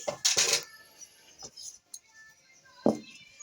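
A metal wok is set onto a lit stove for making amla pickle, a pair of close, bright metallic clanks followed by a few lighter knocks and one more clank near the end, with quiet gaps between.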